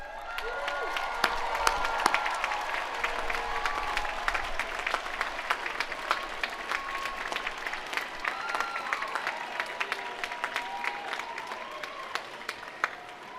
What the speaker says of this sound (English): please stand so that we can give you a well-deserved round of applause